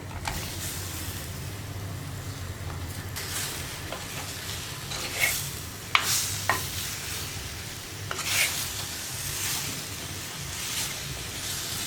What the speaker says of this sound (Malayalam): തക്കാളി ചേർത്തിട്ട് വീണ്ടും വഴറ്റുക